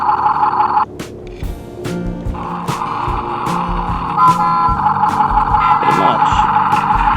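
An MB toy excavator and dump truck plays its electronic engine sound effect, a steady humming, buzzy tone with rising and falling pitches that runs throughout, alongside children and adults talking nearby.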